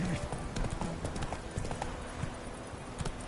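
Geralt's horse Roach gallops in The Witcher 3, hooves pounding in a fast, close, rhythmic clip-clop over a busy background.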